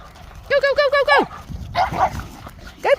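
Several playful dogs bark in quick bursts, a rapid run of close, loud yaps followed by rougher growly barking and another yelp, with a voice calling in the background.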